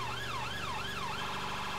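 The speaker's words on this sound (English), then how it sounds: "Change the siren tone to come into the more urban area through the red light." Mercedes Sprinter ambulance siren on an emergency run, loud and close, sweeping up and down in a slow wail before switching to a different tone pattern partway through, with the van's engine humming underneath.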